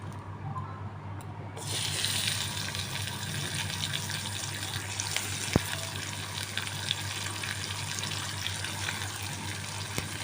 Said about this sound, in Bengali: এবার আমি পেঁয়াজগুলো ভাজবো